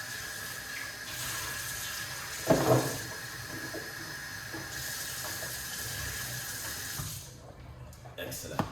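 Tap water runs steadily into a sink while produce is rinsed beneath it, a continuous splashing hiss with a brief louder burst of handling partway through, tailing off near the end.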